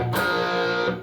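Electric guitar chords played as a lesson example, with a slightly distorted tone, sustained and ringing for about a second, close and fairly loud with no talking.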